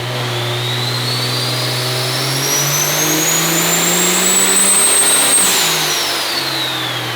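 A diesel street truck, fuel only, with about 1,700 horsepower roars through a wide open throttle dyno pull, engine pitch climbing steadily to a peak, then dropping off as it lets off; loud and close, no voices.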